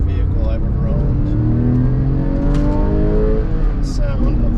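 A Porsche 911 engine revving while driving, rising and falling harmonic tones as revs climb through the gears, loud and close, with someone talking over it.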